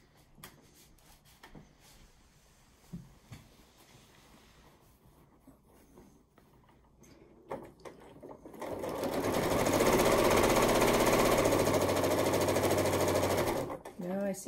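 A sewing machine stitches quilt-as-you-go rows on a barn quilt, starting after several seconds of quiet handling and clicks, then running in a loud, steady whir for about five seconds before stopping.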